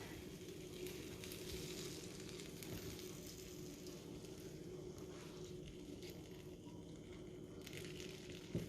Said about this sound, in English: I'm going to put the syrup on. You can hear it sizzling.